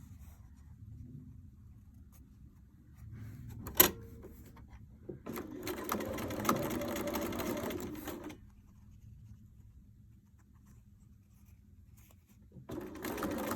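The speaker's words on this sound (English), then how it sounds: "I'm going to sew about halfway and then backstitch." A sewing machine stitches the lining of a beach pouch, quiet handling at first, then a sharp click and a few seconds of close running stitches, resuming briefly at the end.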